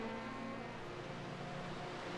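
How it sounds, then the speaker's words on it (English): A hypercar pulls out of the pits in an IMSA racing video game, its engine a steady, quiet drone that runs the whole time with no talk over it. "Ooh, a hypercar is coming out of the pits."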